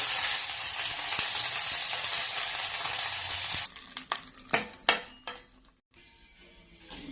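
Mustard seeds and curry leaves sizzle loudly in hot oil, tempering a coconut pottukadalai chutney. A dense hiss runs for several seconds, then drops to sparse pops and stirring clinks before a brief silence.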